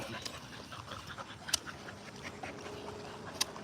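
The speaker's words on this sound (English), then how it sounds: "a Cocker Spaniel mixed with Cane Corso" Cocker Spaniel and Cane Corso mix dog panting softly and steadily, faint and close, with a couple of sharp clicks and light room noise around it and no talking.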